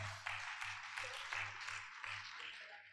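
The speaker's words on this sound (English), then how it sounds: "Please, another round of applause for her." Applause for a health commissioner at a university nursing faculty's 60th anniversary celebration in Ibadan, a steady wash of many hands clapping at moderate, slightly distant level, with a low steady hum underneath.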